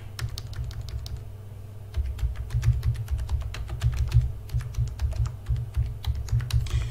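Keys clatter steadily on a computer keyboard as a Linux terminal command is typed out, with close, crisp clicks in irregular quick bursts over a low background hum.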